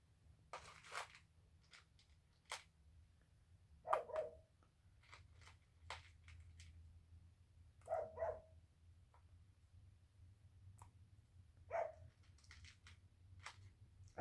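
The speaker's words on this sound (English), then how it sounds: "They just come inside and bark at the cat." Dogs bark indoors at a cat, several separate bark bursts spread apart over quiet room background, fairly faint and at moderate distance.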